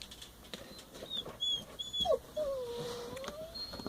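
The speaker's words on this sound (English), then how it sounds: "That one dog is my other dog upstairs." A dog upstairs whimpers in several thin, high whines and a longer falling cry, somewhat distant and muffled, over faint room noise and a few soft knocks.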